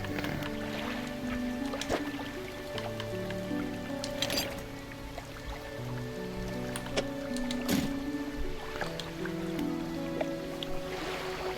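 A small fishing boat's engine in DREDGE drones steadily under a gentle wash of water, its low tonal hum shifting in pitch as it moves, with soft splashes and clicks scattered over the constant churn.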